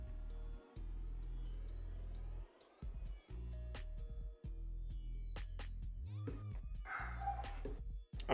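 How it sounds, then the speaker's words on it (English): A dog barks and yips in short bursts around a steady low hum, fairly faint and at a middle distance, with a few whimper-like sounds in between. "I'm sorry about my dog."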